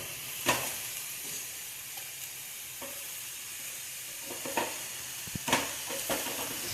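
Broccoli and lentil usili sautéing in a pan, a steady soft sizzle broken by a few sharp spatula scrapes and taps against the pan.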